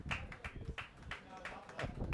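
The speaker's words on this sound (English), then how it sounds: "Applause from all the players." Rugby players applauding together after a youth under-18 boys' match between Cayman and Yeti RFC, outdoors, a few seconds of scattered clapping mixed with nearby commentary talk.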